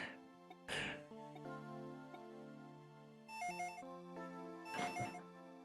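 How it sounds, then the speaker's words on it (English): A telephone rings in a Dragon Ball Z video game, with synthesized ring bursts sounding twice over steady game music, and no one speaking. "The phone is ringing in the living room."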